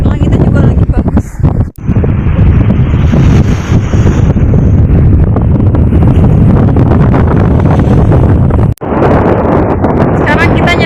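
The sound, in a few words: strong wind on an island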